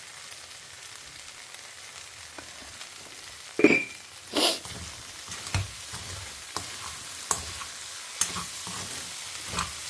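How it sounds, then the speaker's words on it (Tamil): Bottle gourd sautéing in a home pan gives a soft steady sizzle with scattered scrapes and clinks of stirring, one louder clatter near the middle, with no one talking. "இப்படியே வதங்கட்டும் ஒரு 2 நிமிஷம்."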